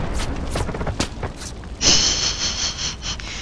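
An explosion in the video game Far Cry 4 bursts in the middle with a loud boom and a sizzling, crackling tail, after a run of sharp short impacts and breathy sounds.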